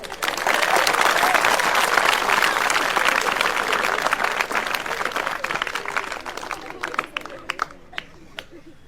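Loud applause from a crowd at a comedy show in a school setting, a dense burst of clapping that holds steady and then thins into scattered claps, with some chatter underneath.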